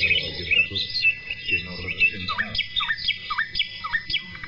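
A nightingale sings in a radio report, a string of rapid whistled chirps and repeated swooping notes, clear and fairly close, with a few fuller phrases at first followed by a quick regular series of short calls.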